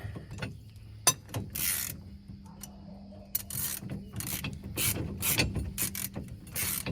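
A ratchet wrench loosens nuts on the axle of an Arctic Cat Prowler 650 UTV, with repeated bursts of sharp, rapid clicking close up, separated by short pauses and faint metallic handling noises.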